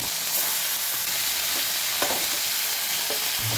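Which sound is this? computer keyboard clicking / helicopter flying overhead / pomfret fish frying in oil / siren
pomfret fish frying in oil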